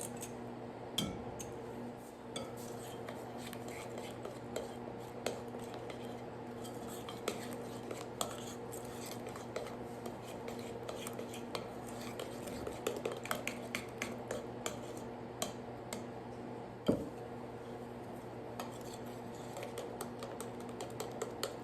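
A spoon beats Dutch baby pancake batter in a bowl, giving a steady run of light clicks and scrapes against the bowl, close and fairly quiet, with a louder knock near the end and no talking.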